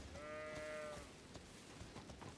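A single short, nasal goat bleat in the Elden Ring video game, fairly quiet and heard over a low ambient rumble, then fading out.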